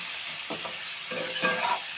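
Vegetables fry in a pan under a brief, close sizzle, broken by a few quick stirring scrapes.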